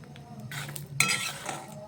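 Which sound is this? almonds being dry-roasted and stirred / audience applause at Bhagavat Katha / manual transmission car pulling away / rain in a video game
almonds being dry-roasted and stirred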